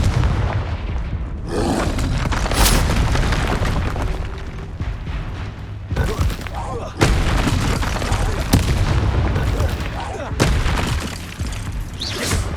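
Confringo spell explosions in Hogwarts Legacy boom repeatedly and loudly over a dense rumble, several sharp blasts spaced a second or two apart, while a voice calls out over the combat.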